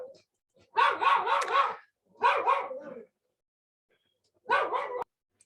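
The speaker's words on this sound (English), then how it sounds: "my dogs are barking" Pet dogs bark at home in three separate bursts of rapid repeated barks, fairly close and loud, with silent gaps between them.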